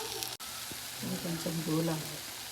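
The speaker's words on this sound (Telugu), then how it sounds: "పుట్నాలన్నీ కొద్దిగా ఫ్రై అయితే బాగుంటుంది" Roasted chana frying in a pan with stuffed brinjal, a soft steady sizzle with a brief stir and a faint hum of a voice underneath.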